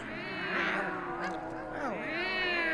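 Black cats meow in a spooky fairy-tale scene, several drawn-out, rising and falling meows overlapping one another in a steady, fairly loud stream with no pauses.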